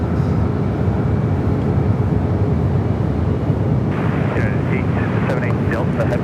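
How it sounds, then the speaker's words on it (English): A United Airlines Boeing 737 MAX 8 jet airliner at San Francisco airport, a loud, steady rumbling jet roar that fills the whole stretch, with a person talking over it in the latter part. "This flight headed to Indianapolis, Indiana. United Airlines flight 2660. 737 at max 8."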